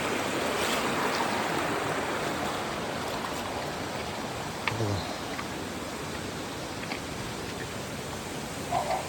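Steady, full rushing of flowing water fills the whole clip, constant and fairly loud with no pauses.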